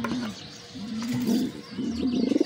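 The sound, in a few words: pigeons in a loft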